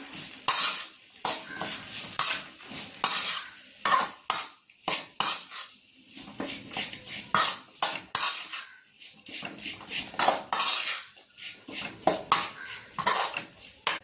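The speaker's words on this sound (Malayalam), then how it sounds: "ഡേറ്റ്സ് ഇട്ട് മിക്സ് ചെയ്യുക" Dates are stirred into a thick pickle mixture in a pot, with a rhythmic series of close spoon clinks and scrapes against the vessel and brief quiet gaps between strokes.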